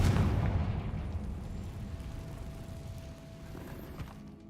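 A Confringo fire spell explodes in the Hogwarts Legacy video game, opening with a loud, deep boom that fades into a long rumbling decay.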